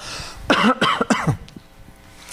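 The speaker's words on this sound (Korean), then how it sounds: "영적인 사람 앞에서 이렇게 기침하면요" A few sharp, throaty coughs in quick succession, close and fairly loud, then quiet.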